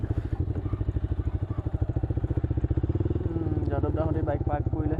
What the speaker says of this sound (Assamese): এতিয়া বঢ়িয়াকৈ বাইকখন পাৰ্ক কৰি লওঁ